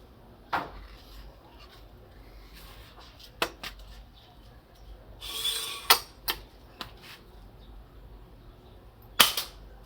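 A slingshot with Brazilian pine handle and rubber bands is test-fired at two to three meters, giving several sharp, snappy cracks scattered through quiet, with no talking.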